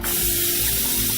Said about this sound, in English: So a little more cooking spray.